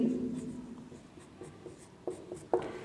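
A pen moves across a board in a quiet room, making soft scratchy strokes with a few sharper taps toward the end, all faint and close.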